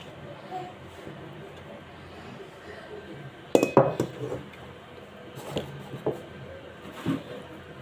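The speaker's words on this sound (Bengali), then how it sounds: "দিয়ে এভাবে করে তালটাকে ছেঁকে নেব।" A metal strainer handles palm fruit pulp, giving scattered metallic clinks and scrapes, with one louder cluster of knocks midway and a few lighter taps after, over a low room murmur.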